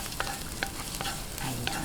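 Garlic sautés in a pan for a squid dish, giving a steady close sizzle with a few quick spatula scrapes over a short stretch.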